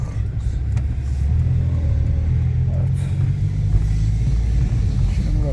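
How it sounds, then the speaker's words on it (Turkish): A Fiat Tipo 1.4 on a test drive after a brake pad change, its engine and road rumble droning loud and steady from inside the cabin with no clear changes. "Ondan dolayı aracı teste çıkardık."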